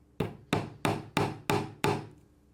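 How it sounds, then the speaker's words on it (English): A hammer drives a nail into the top of a DIY wooden bookshelf with six sharp, evenly spaced blows, each one close and ringing briefly before the next. "hold the top in place and tack in my first nail"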